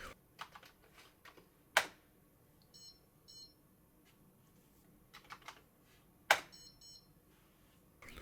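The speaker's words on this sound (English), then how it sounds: "You're going to have to type in your commands like a real man." Keys tapped on a computer keyboard while entering commands into a vintage 1980s Dave Brown RC flight simulator, scattered clicks in small bursts with two sharper strikes and a few faint electronic beeps in a quiet room.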